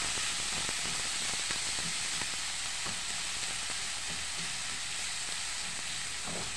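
Chopped tomatoes frying in a pan for adobong sitaw, a steady bright sizzle with occasional stirring clicks and pops, heard close and alone.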